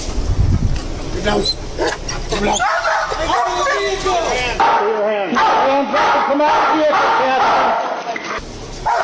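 A dog barks and yips repeatedly during a police stop, loud and close, with whimpering bursts over raised voices and crowd noise.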